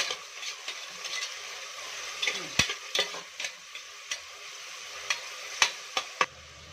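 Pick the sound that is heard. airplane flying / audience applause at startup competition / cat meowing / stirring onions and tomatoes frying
stirring onions and tomatoes frying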